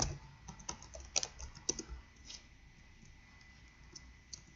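A computer keyboard sounds during a GTA San Andreas multiplayer session, with irregular soft key clicks coming in quick clusters and then thinning out. The typing is fairly faint, and no one talks.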